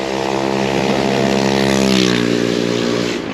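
A moped engine revs loudly and steadily up close in New York City traffic, its pitch rising and then settling, with road noise around it.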